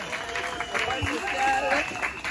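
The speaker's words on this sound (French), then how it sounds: "Applaudissons pour le secrétaire général." Applause at a Women's Month celebration of a mining ministry's general secretariat, a crowd clapping steadily with voices calling and cheering over it.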